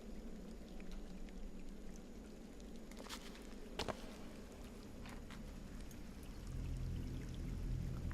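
Water pours steadily in the Scanner Sombre video game, a continuous splashing wash with a brief louder burst near the middle and a fuller, heavier flow toward the end.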